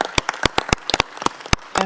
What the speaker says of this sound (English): perhaps we could give her a brief round of applause